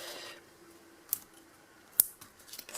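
Scissors cutting card stock during papercraft work: two quiet, crisp snips about a second apart, close by, with near silence around them.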